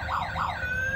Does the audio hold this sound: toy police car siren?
yes